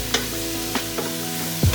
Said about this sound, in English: You stir it like this. Make sure you don't let it burn.